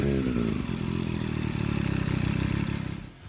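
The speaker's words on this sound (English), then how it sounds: "The MV Agusta Brutale 800." An MV Agusta Brutale 800 motorcycle with a triple exhaust runs loud and close, its engine giving a dense, steady throb with a slight mechanical clatter that eases off near the end.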